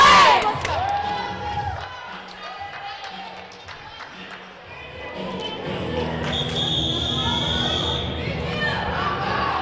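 A crowd at a high school volleyball timeout cheers, with bench players shouting and scattered clapping over timeout music, a busy gym din with a brief high whistle-like tone later on.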